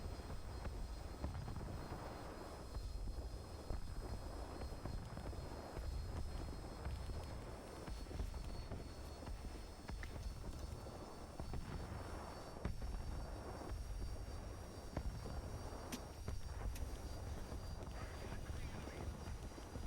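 A jet aircraft engine in the War Thunder video game drones on at sustained thrust, steady and fairly quiet with slight surges and a thin high whine above it.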